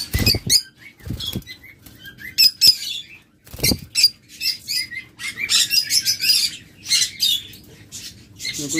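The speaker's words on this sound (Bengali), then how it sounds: "অনেক পাখি আছে, সবগুলো দেখাইলাম না" Pet lovebirds at a bird seller's shop chirp and squawk in a dense, busy chorus, with sharp close calls and fluttering wing noise throughout.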